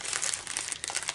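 A plastic zipper bag of NuNaturals sweetener packets crinkles and rustles in close-up, a dense run of crisp crackles lasting about a second with no voices.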